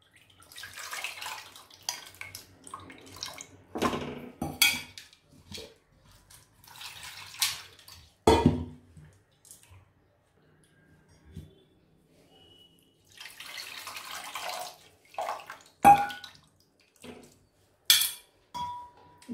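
Soaked tamarind squeezed by hand while water is poured over it in a steel vessel, for thin Telugu pappucharu; close, intermittent wet splashes, sloshes and small metallic clinks come in short bursts separated by quiet gaps.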